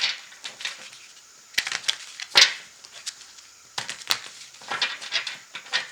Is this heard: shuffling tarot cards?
yes